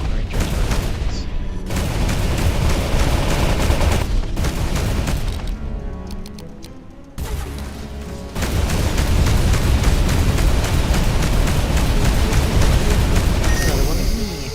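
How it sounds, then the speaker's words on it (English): Long-range artillery fire in the space game Between the Stars booms heavily and nearly without pause, with one brief dip in the middle, while a voice speaks over the loud, continuous barrage. "That guy's long range artillery."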